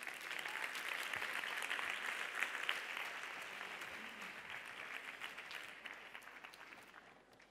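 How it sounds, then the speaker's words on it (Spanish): Conference audience applauding a sexologist taking the stage at an international union congress, a dense, steady wash of clapping that stays even and fades slightly toward the end, with no voices. "Un aplauso"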